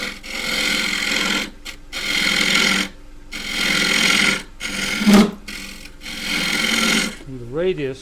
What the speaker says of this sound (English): and then go in with a scraper.